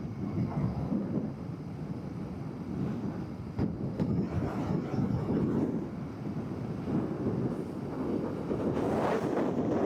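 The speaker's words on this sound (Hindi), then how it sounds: "ये अचानक से तेज़ हवा का झोंका आया" A strong gust of wind roars steadily against the microphone of a Royal Enfield Continental GT650 riding at about 100 km/h, a dense rumbling rush that swells slightly toward the end.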